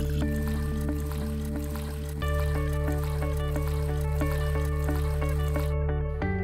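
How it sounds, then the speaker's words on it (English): Steady stream of water pouring into a glass container, a continuous trickling fill with a brief shift in tone partway through. "I'm going to take water and pour it into my clean glass tank"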